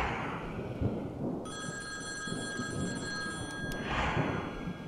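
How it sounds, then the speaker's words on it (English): A telephone rings in the Boogeyman horror video game, a steady electronic bell tone lasting a couple of seconds over a constant hiss of background noise. "Answer the phone!"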